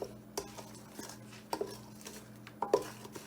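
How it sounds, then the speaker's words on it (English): A spoon knocks and scrapes inside a bowl as browning is mixed into Jamaican black rum Christmas cake batter, with soft irregular taps and a couple of sharper clinks close by. "Gonna add some browning, about 1 tablespoon. I'm just gonna mix it around like this."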